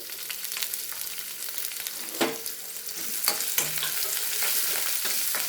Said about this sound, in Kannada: ಇವು ಸ್ವಲ್ಪ ಫ್ರೈ ಆಗಬೇಕು ಸ್ವಲ್ಪ ಹಸಿಮೆಣಸಿನ್ಕಾಯಿ ಫ್ರೈ ಆದಮೇಲೆ